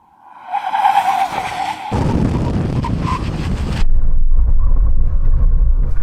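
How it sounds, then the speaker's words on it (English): An Audi RS car braking hard from over 100 mph, a loud roaring rush of wind and tyre noise that shifts into a deep rumbling drone as the car slows, no talk. "see how long it takes the car to stop from 100 miles an hour and 60 miles an hour"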